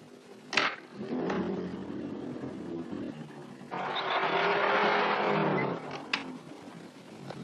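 A 1930s car drives fast and revs, with a sharp tire squeal near the start and a longer, louder skidding roar midway, engine noise steady and fairly close throughout.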